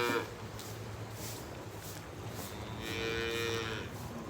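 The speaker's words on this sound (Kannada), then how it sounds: "ಪ್ರತಿದಿನ ಹಸುಗಳು ಹೋಗ್ತಾ ಇರ್ತವೆ ತೋರಿಸ್ತಾ ಇರ್ತೀನಿ" A faint, distant cow lows once at a dairy farm, a drawn-out call rising above steady background noise, with no talking.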